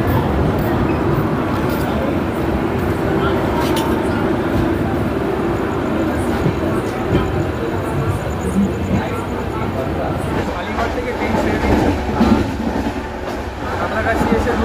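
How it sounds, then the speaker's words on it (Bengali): Continuous rumble and rattle of the 12895 Shalimar–Puri superfast express pulling out of platform 1 at Santragachi station, heard from inside the train, steady throughout with faint chatter in the carriage. "ট্রেন আমাদের সাঁতরাগাছি স্টেশনের 1 নম্বর প্ল্যাটফর্ম থেকে ছেড়ে দিল"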